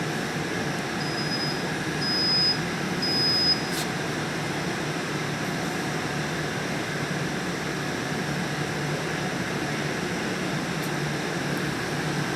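Steady mechanical whir of an AC refrigerant recovery machine drawing refrigerant out of service hoses, a continuous broadband hum with a faint high whine, holding level throughout with no talk.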